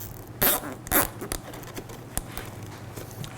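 A zip tie is pulled tight through the material of a motorcycle seat cover, giving a couple of quick ratcheting zips followed by lighter scratchy handling noises, close up.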